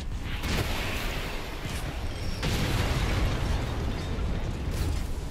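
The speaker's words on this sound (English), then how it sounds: "Did I blow everyone up? Yes, I did." Rumbling blasts in Flintlock: The Siege of Dawn, a dense booming roar with two surges, the second stronger, sustained and loud with no voices.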